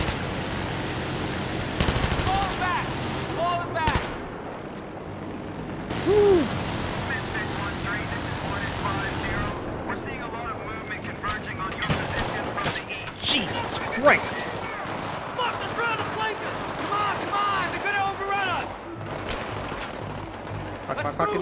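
Bursts of automatic gunfire from a Battlefield 3 campaign battle, rattling fusillades mixed with single shots and a constant rumbling backdrop of game noise, loud and continuous throughout.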